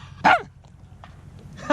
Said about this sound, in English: Bark again. Bark.